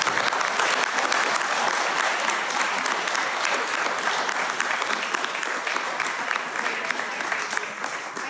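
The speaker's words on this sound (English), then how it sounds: "Can we give them a round of applause?" Audience applauding a panel, a continuous, fairly close wash of clapping from a sizable crowd that stays steady and fades slightly at the end.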